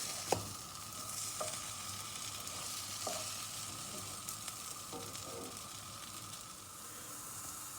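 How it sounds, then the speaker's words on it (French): Cheese bread dough rounds cook in a dry, ungreased pan, giving a steady low hiss with a few soft knocks and taps at the start and midway. "Dans une poêle sans matière grasse, je mets les pâtons."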